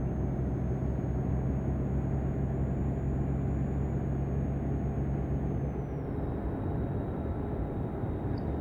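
A steady, droning truck engine in Euro Truck Simulator 2 hums continuously at a constant level, with a faint high whine that drops slightly in pitch near the end.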